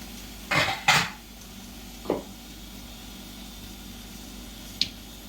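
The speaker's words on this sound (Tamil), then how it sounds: "இப்போது கடுகு பொரிஞ்சிச்சு" Mustard seeds splutter in sesame oil in a kadai while coriander rice is started: a few sharp, scattered pops and crackles, fairly quiet, with long gaps between them and no talking.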